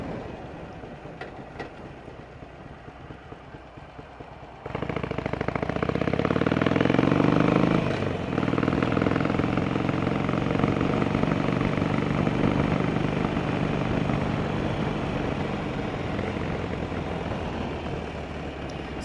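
A 2008 Harley-Davidson Sportster 1200 Roadster rides along Palos Verdes Drive. Its engine starts as a low rumble, then surges into a loud, steady roar that holds with wind noise to the end.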